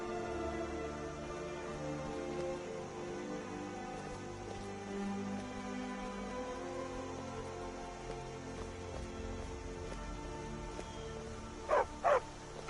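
A dog in Skyrim gives two quick, sharp barks near the end, following a long stretch of soft rain-like ambience.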